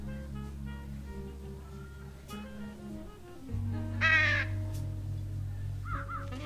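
Crows perched on a roof in the video game Trüberbrook give a loud burst of harsh cawing over steady low ambient game music and hum, followed by fainter calls.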